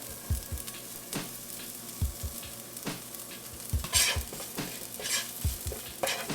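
Golden oyster mushrooms fry in a pan under a steady crackling sizzle, punctuated by repeated scraping and tapping as they are stirred and turned, fairly close and with no voices.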